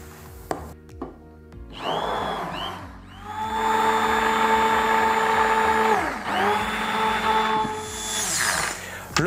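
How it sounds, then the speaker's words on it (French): Immersion blender whirring through strawberry purée and yogurt for a light strawberry mousse, a loud steady motor whine starting after a couple of seconds, briefly dipping in pitch midway, then running on up close. "il ne me reste plus qu'à mélanger l'ensemble en utilisant un mixeur plongeant"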